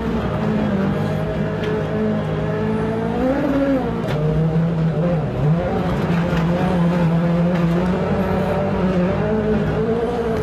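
A rally car is driven hard, heard from the driver's seat: a loud, steady engine drone whose pitch rises and falls as the car accelerates and slows, with road and gravel noise constant underneath.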